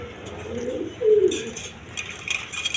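Pigeons of a snake-eyed breed, a male and female pair, coo in soft low bursts close by, with a louder coo midway and faint rustling after.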